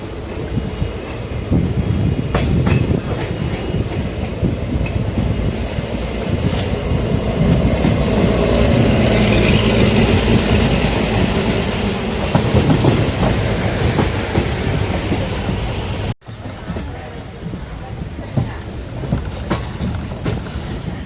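Mannargudi–Mayiladuthurai passenger train rolling into Thiruvarur Junction, heard from on board: a loud, steady rumble with rhythmic wheel clatter and occasional squeals, then a sharp jolt and a slightly quieter run to the end.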